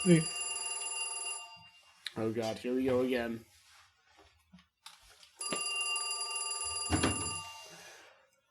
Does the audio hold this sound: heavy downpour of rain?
no